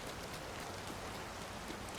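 Rain falling in Disney Dreamlight Valley, a faint steady hiss of drops pattering evenly with no distinct individual hits, soft and continuous, ending in a tiny click.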